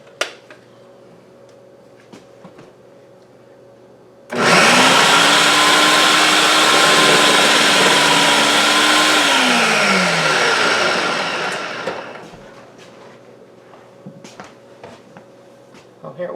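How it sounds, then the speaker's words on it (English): A food processor grates carrots for coleslaw, its motor kicking in abruptly with a loud, steady whirring roar that holds for several seconds, dips in pitch as the load changes, then winds down, with quiet kitchen sounds before and after. "I am going to grate carrots"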